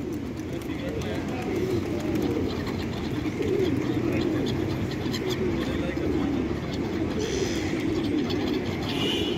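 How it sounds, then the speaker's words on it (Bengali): Pigeons and migratory birds gathered at a feeding spot in busy Manama city, with soft cooing carried under a steady wash of urban traffic noise and occasional voices throughout. "এই কারণে এখানে কবুতরগুলো আসে"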